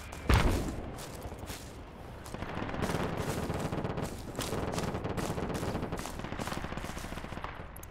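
Aircraft strafing with sustained automatic gunfire in the military game Project Reality: a heavy thump opens, then dense, continuous rattling fire and rumble carry loudly to the end.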